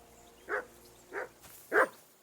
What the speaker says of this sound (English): Henry, that barking's driving me nuts.